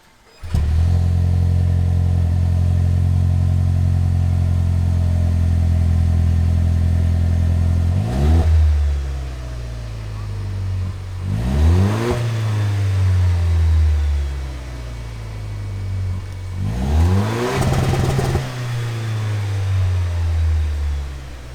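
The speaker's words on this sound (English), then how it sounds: "So let's take a listen to the cold start." A Toyota LC250 fitted with a MagnaFlow high-clearance exhaust cold-starts: a loud, steady idle for about eight seconds, then three sharp revs that swell and fall back, the exhaust note close and full throughout.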